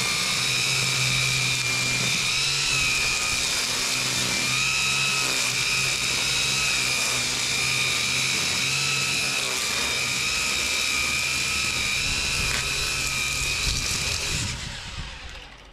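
A RYOBI 40V cordless string trimmer cutting grass along a house fence, a steady high-pitched motor whine held for many seconds, loud and near, then cutting off at the end.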